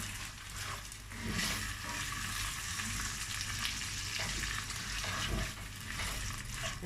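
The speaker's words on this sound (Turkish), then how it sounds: "Pirinçlerimiz tane tane olana kadar kavuralım" Washed rice roasting in a pan with oil for chestnut pilaf, a steady close sizzling and crackling with stirring swells, no talk.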